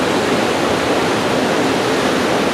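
River water rushing steadily over worn rock, a dense, continuous roar with no breaks, close and loud throughout.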